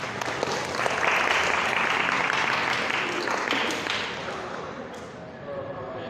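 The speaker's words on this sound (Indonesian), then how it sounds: "tepuk tangan semua" Audience at an Indonesian Quran talk clapping together for two young participants, a dense burst of close applause that swells and then fades over several seconds, with a voice speaking near the end.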